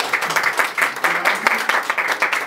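An audience at a community radio station launch claps for its volunteer production team, giving close, lively applause with distinct individual claps in an irregular patter.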